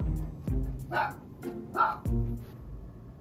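Large dog barking close by, several deep single woofs spaced apart with softer whining yips between them.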